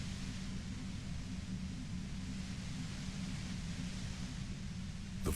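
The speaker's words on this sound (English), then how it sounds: "The violent white noise." A violent white noise effect from Disco Elysium hisses as a dense, steady broadband static with a low rumbling undertone, unbroken and even throughout, ending in a brief sharp burst.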